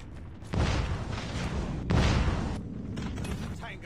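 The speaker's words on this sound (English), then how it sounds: "We have called in a strafe for him." A strafe-run air attack in a ranked match of an online shooter game, heard as loud, sustained rushing and rumbling blasts that arrive in two waves, with faint mechanical clatter afterward.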